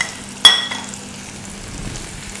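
Chopped small onions sautéing in a pan for brinjal chutney, a soft steady sizzle after one sharp clink of a utensil near the start.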